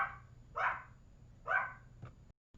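A dog barks twice at a moderate distance, two sharp separate barks about a second apart, with a faint thump after.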